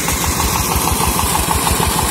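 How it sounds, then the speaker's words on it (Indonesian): A new water pump engine, drawing from an 8-metre bore with the water surface at 4 metres, runs at an easy pace with a loud, steady, rapid low chugging pulse close by, no voices. "Ini padahal mesinnya ini santai ini, teman-teman ya."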